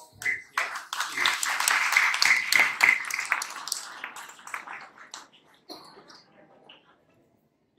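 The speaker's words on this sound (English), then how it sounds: "Please give them a big applause of thanks." Students at a school investiture ceremony for a new student council give a burst of clapping applause that swells, holds for several seconds, then thins out and fades to quiet.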